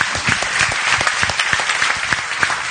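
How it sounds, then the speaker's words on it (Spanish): Lively audience applause at a university book presentation in Buenos Aires, many hands clapping densely and continuously at close range, with sharp individual claps poking through. "Son un aplauso, viejo."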